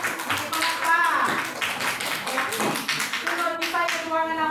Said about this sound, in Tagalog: palakpakan na ito ang group 2